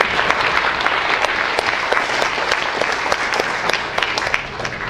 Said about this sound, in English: Let's give them a round of applause again.